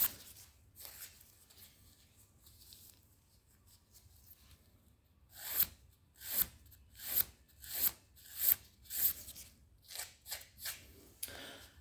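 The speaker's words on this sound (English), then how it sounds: "so I'll file the nails on both of the feet" A nail file rasps across toenails during a pedicure: soft, quiet back-and-forth strokes that build into a steady rhythmic series of about ten close scrapes after a mostly hushed start.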